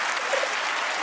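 An audience claps together in a brief, dense burst of applause, steady and fairly loud throughout.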